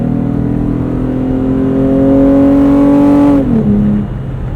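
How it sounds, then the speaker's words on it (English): A 2014 Toyota FJ Cruiser V6 fitted with a TRD intake and exhaust growls loudly and close, its pitch rising steadily under load before dropping off sharply as the throttle eases. "It also has a Trd intake and exhaust. You can hear a slightly louder growl."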